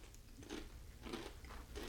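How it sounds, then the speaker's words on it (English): Quiet, close crunching from bites into fried shrimp chips, several brittle cracks spaced irregularly, each followed by chewing, with no talking. "Do y'all hear that crunch?"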